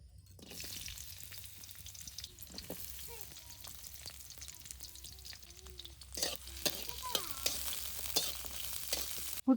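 Potatoes fry in a pan after lightly fried puttu, a soft, low sizzle with occasional stirring clicks, while faint chirps and household sounds drift in the background.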